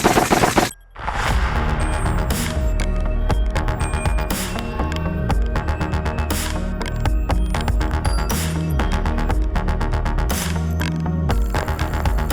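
FG-15 foam blaster on high speed firing continuously, a loud dense mechanical rattle of rapid repeated shots running steadily after a brief pause at the start.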